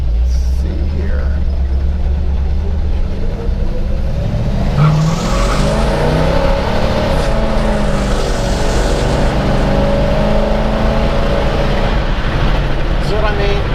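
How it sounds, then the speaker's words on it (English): A pro street car spinning its wide rear tire, a loud, steady engine roar with tire noise and a rising and falling tone throughout, with someone talking over it. "See what I mean? Just spins that tire."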